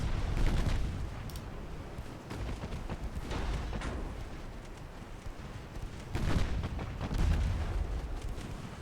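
Artillery firing high-explosive shells in a wartime strategy video game: a continuous low rumble of distant and nearer booms, with heavier blasts rolling in around the middle and again toward the end.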